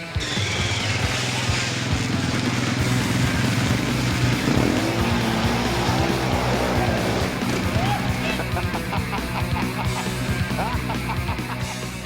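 Four-wheeler ATV engine revving loudly on snow, a steady droning roar that holds through the whole stretch, with faint voices in the background.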